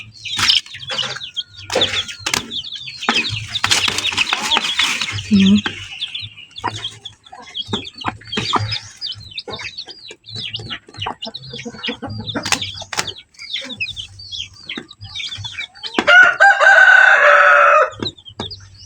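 A hen with newly hatched chicks clucks repeatedly at close range, with short bursts of clucking and peeping, some louder flurries of fowl calls, and a brief rooster-like crow near the end.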